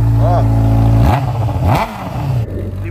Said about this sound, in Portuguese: vamos mostrar pra vocês como que tá atualmente o som dela, tá? Escape original sem a marmita.